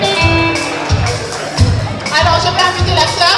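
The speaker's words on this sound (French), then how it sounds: "Des applaudissements pour moi, s'il vous plaît." A crowd at a church's tenth-anniversary celebration claps and cheers with a rhythmic beat, lively and fairly loud, mixed with music and some voices.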